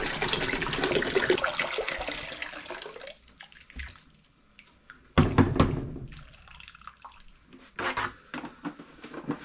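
Sugar cane juice poured from gallon jugs into a pot, a steady pouring, splashing rush for about three seconds, then a quieter gap and two shorter bursts of pouring and dripping near the microphone.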